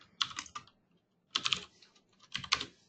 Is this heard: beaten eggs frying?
no